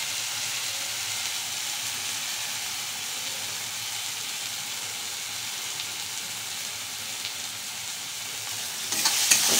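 Spices with turmeric sizzle steadily in hot oil for a Bengali pabda fish curry, under a constant broadband frying hiss with faint stirring scrapes, growing slightly louder near the end.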